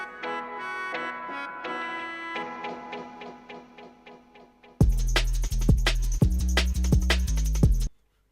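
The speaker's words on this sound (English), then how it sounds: "I'm going to automate it so that the delay also comes in" A dub-style drum and bass production where repeating synth notes echo away, then a heavy bass section enters with the delay automated to swell on the final note, loud and alone.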